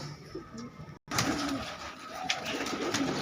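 Pigeons released outside from their loft coo softly nearby, low repeated calls over a steady outdoor hiss after a brief drop to silence.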